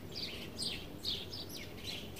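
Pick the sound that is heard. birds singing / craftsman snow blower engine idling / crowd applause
birds singing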